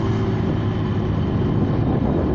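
A Honda Vario 125 fuel-injected scooter engine roars loudly and steadily close by, a continuous heavy revving drone without speech.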